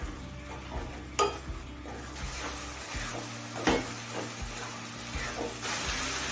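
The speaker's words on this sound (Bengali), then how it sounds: "এবার গ্যাসটা জেলে দিয়ে হাই ফ্লেমে গুড় আর নারকেলটা কিছুক্ষণ নাড়াচাড়া করতে হবে" Jaggery and grated coconut stirred in a pan over a high gas flame, with scraping spoon strokes and sharp clacks against the pan above a low steady sizzle, fairly quiet and close.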